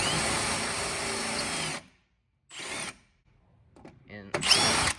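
A power drill with a sharp metal bit spins up on plastic door panel rivets of a 1988-94 Chevy Silverado, loud whirring bursts broken by pauses and short lighter runs.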